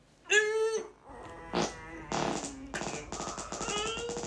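A short, buzzy fart-like squeak, then more tonal bleats and brassy cartoonish tones follow, loud and close, without speech.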